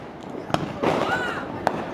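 A firework rocket that failed to burst properly gives a couple of sharp pops and a brief fizzing whoosh outdoors, fairly close, with shouting around it.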